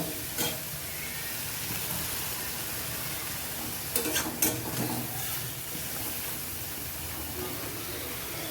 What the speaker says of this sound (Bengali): মশলাটা ডাটার সঙ্গে ভাজা ভাজা করে নেব